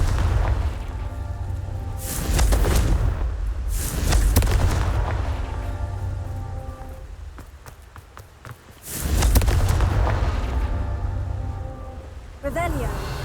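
Repeated booming blasts of the Confringo explosive spell in the video game Hogwarts Legacy, loud bursts arriving in clusters with rumbling tails and a sharp whoosh near the end.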